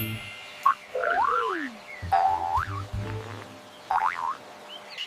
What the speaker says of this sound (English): It's a frog.